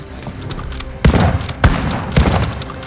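Gunfire in Call of Duty Warzone, with several heavy shots and bursts booming close over a busy game soundscape, three louder impacts standing out at roughly half-second intervals.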